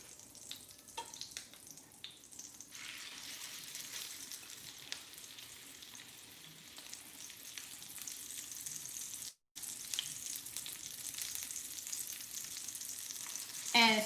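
Meatballs sizzle and fry steadily in a hot frying pan for Italian meatball subs, a continuous crackling hiss with small stirring and clinking sounds, briefly cut off once midway.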